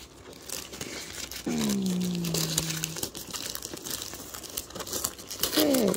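Wrapping on a birthday gift crinkles and rustles as it is unboxed, close and loud in bursts, with a brief voice sounding around the paper noise.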